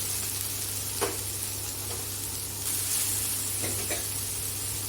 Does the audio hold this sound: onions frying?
yes